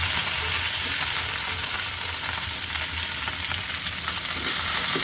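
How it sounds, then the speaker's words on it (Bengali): Raw cauliflower frying in oil in a wok, giving a steady, dense sizzle that holds at an even loudness throughout with no talking. "প্রথমে আমি কপিটা দিয়ে দিচ্ছি একটু ভাজা ভাজা করে নেওয়ার জন্য"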